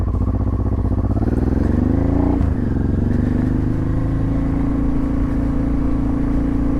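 A Honda Transalp converted to a supermoto is ridden, its engine droning steadily and close with a rise in pitch and a brief rev change partway through, no voices.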